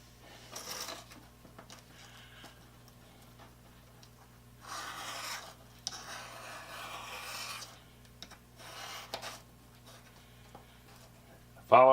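A rebate plane iron is drawn across sandpaper by hand, following the bevel, making soft gritty rasping strokes in several separate bursts with quiet gaps between them, fairly close and moderately loud.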